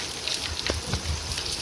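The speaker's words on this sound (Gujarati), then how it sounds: "સારો વરસાદ છે" Heavy rain pours steadily at night, a dense, even hiss with faint scattered drips close by.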